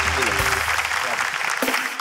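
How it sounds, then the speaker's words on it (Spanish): A theatre audience applauds in a dense, loud wash of clapping, with a voice speaking over it throughout. "Un fuerte aplauso para Tipa Loca"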